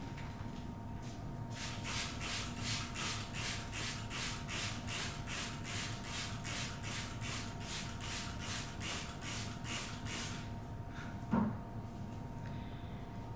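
A spray bottle is squeezed over an orchid at a sink in a quick regular series of about twenty short hissing bursts, followed by a light knock.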